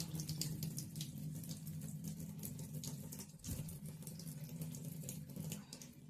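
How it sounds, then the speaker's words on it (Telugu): Water runs steadily from a tap into a basin, a constant close splashing rush with a brief dip partway through. "కొంచెం ఫస్ట్ వాటర్ పోసుకుంటాను"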